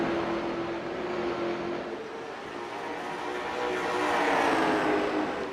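Race cars of the CARS Tour scream around the North Wilkesboro oval in a continuous loud, droning engine roar that swells toward the end as the cars come closer.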